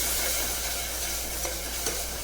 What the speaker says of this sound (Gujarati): હવે આપણે આને મિક્સ કરીશું.